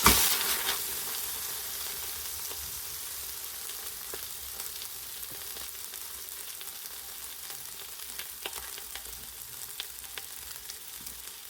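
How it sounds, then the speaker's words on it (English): Beef sears in avocado oil in a hot pan, a loud, steady sizzle that hisses continuously from start to finish with faint crackles scattered throughout. "I'm going to put some avocado oil in this pan, which I've had on saute getting hot here for a minute. We're going to sear it on both sides"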